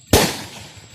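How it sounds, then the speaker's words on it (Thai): A single sharp firecracker bang goes off nearby in a rice field to scare birds away, its blast fading into a short echoing tail. "ต้องจุดประทัดไล่มัน"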